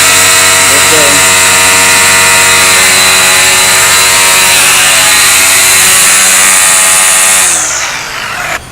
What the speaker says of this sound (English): you can hear that it's not as powerful, like I said, as a gas-powered weed eater, but it's powerful enough